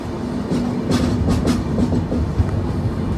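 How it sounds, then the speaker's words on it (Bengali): The Howrah–Pune Duronto Express rumbles along at speed, a steady loud roar with faint rhythmic wheel clatter, heard from inside the moving train. "এই যে আমাদের ট্রেনটা ডান দিকে ঢুকে যাচ্ছে"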